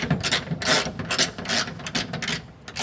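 A hand ratchet clicks in quick, uneven bursts while loosening a 17 mm upper shock bolt on a 2023 Nissan Frontier Pro-4X, close and loud, with no voices.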